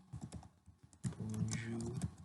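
Quiet typing on a computer keyboard: scattered key clicks at first, then a denser run of taps over a faint tonal hum.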